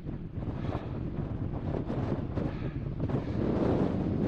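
Strong, icy wind near 2,800 metres on Mount Olympus in Greece roars loudly and continuously into the microphone, a dense gusting rumble with no voices.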